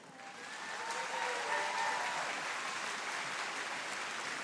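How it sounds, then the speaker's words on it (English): Applause honoring Larry Groves at a musical ice show, a broad, fairly distant wash of clapping from a large arena crowd that swells in the first second and then holds steady, with faint cheers. "he might like a little applause"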